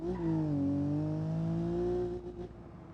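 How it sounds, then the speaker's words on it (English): In a driving video game, a car tyre gives a sustained, tonal squeal that bends slightly in pitch over a low engine drone. It holds steadily for about two seconds, then cuts off abruptly. "Which is perfectly understandable why the tyre's doing that sound."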